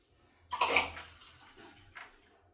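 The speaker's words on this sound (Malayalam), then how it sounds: "കുറച്ച് വെള്ളം ഒഴിച്ച് കൊടുക്കാം." A short gush of water poured into a pressure cooker, loud for about half a second, then fading into a soft trickle and a small splash.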